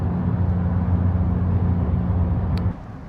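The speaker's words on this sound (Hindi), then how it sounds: "बहुत ही बड़ी आवाज़ वाली गाड़ी लेफ्ट से जाते हुए।" A very loud vehicle passes on the left with a heavy, steady engine rumble that holds strong, then drops off abruptly near the end, leaving quieter background noise.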